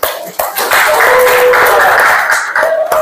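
Applause in a classroom during an Arabic language lesson, a burst of clapping that rises quickly and holds steady for a few seconds, loud and close.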